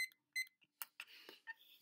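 Faint electronic timer beeps, several short chirps in an uneven pattern, come from a small device during a gel nail polish session, mixed with soft clicks and handling noises.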